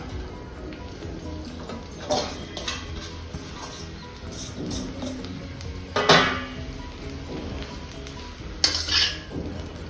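Gongura leaves stirred in peanut oil in a metal pot, soft frying rustle with a few sharp clinks of a spoon against the pot rim, close and fairly quiet.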